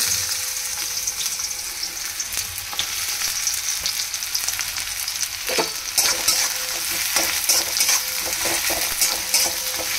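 Onion fries in oil in a pan, a steady, close sizzle layered with frequent scraping stirs and light clinks that grow busier toward the end, with no voices.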